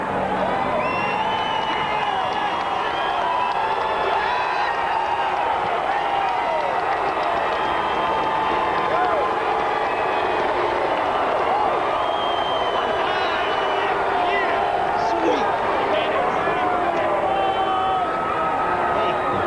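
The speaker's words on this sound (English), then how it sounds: "I think there'll be a pretty loud cheer" A loud, sustained crowd of cheering and applauding NASCAR fans roars continuously as Jeff Gordon climbs out of his car after a 2005 race win, with whoops and a commentator's voice rising over the din.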